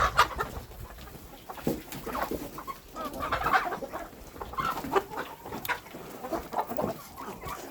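Several hens cluck and chatter close by in a noisy farmyard with ducks, a steady busy murmur with occasional sharper calls.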